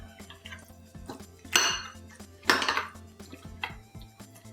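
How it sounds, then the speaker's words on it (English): A dip is stirred in a bowl with a utensil, producing close, quiet scraping and two louder clattering knocks against the bowl amid small clinks, with no voice. "Yeah, you stir."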